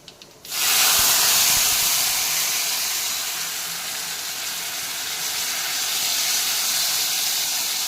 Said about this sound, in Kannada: ಹುಣಸೆ ರಸ ಕುದೀತಾ ಇದೆ